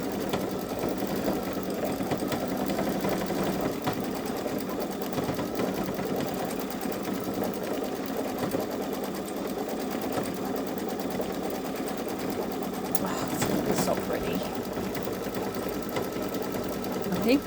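Babylock Solaris embroidery machine stitching out a hummingbird and flower design, its needle hammering in a fast, steady mechanical rhythm throughout, close and continuous, with a voice talking quietly over it.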